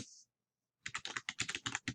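Quick keystrokes on a computer keyboard tap out a command in a rapid close burst after a short silence, crisp and irregular clicks with no speech.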